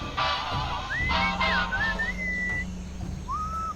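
Clear, melodic whistling in the video game Sam & Max Beyond Time and Space glides up and down over a steady rhythmic backing track, with a second brief whistled phrase near the end.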